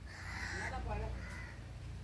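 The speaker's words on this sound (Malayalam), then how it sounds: "പോടാ കാക്കെ ഒത്തിരി ശല്യം ചെയ്യാതെ" A crow caws repeatedly near a house where a pet squirrel is kept, its harsh calls carrying over steady low background noise with a faint voice underneath.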